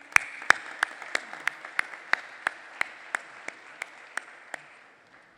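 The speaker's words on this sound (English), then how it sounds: "Let's applaud them." Claps from an audience at a parliamentary intelligence-security forum, about fifteen sharp, evenly spaced, slowing slightly and fading out near the end, heard alone in a reverberant hall.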